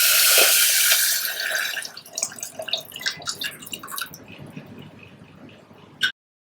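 Water splashes loudly into a pan of sugar for making syrup, then settles into scattered drips and small trickles before stopping abruptly.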